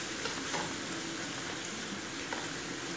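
Sweet and spicy ginisang bagoong (shrimp paste) sautéing with tomatoes in a pan gives a loud, steady sizzle and crackle throughout, with faint stirring scrapes and no talking.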